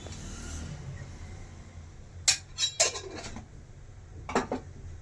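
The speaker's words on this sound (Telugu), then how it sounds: "నా దగ్గర ఈరోజు బటర్ లేదు కాబట్టి నేను నెయ్యి వేసుకుంటున్నా." A metal spoon clinks against a cooking pan while ghee is added, giving several sharp, close taps in two small clusters over a quiet kitchen background.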